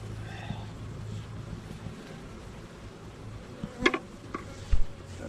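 Honey bees drone steadily around an opened hive during a spring inspection, a low continuous buzz with a few short knocks and clicks near the end.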